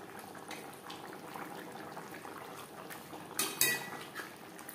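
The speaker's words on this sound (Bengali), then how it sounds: "গ্রেভির সাথে মাছ বেশ ভালো করে মিক্সড করে দেবো।" In a pot, fried katla fish is folded into gravy, a faint soft scrape and slosh that builds to a few brighter clinks of a metal spoon against the rim.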